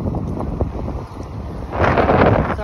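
Wind gusting across an open beach shore at Magnolia Beach, Texas, buffeting the microphone with low rumbling noise that swells louder in the final second, no voices present.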